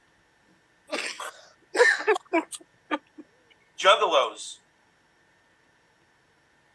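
A sharp sneeze bursts out, followed by a few quick voiced sounds and people talking nearby.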